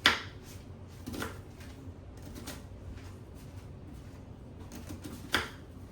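Knife chopping food on a cutting board in a home kitchen while making tacos, with scattered sharp taps and thuds spaced irregularly at a quiet, close distance.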